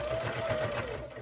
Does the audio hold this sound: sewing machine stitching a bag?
yes